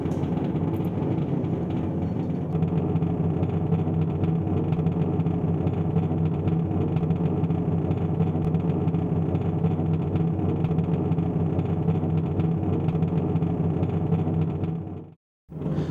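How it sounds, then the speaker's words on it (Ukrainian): A BMP infantry fighting vehicle's diesel engine runs at a steady idle, a loud continuous low rumble that holds evenly for the whole stretch before dropping out briefly near the end. "Дати попрацювати двигуну протягом 50 секунд."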